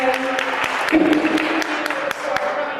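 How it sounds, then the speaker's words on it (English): Audience applause fills a women's empowerment conference room, a steady wash of clapping with a few louder individual claps and faint voices mixed in throughout. "Applause for the wonderful ladies that are sitting in the room this morning."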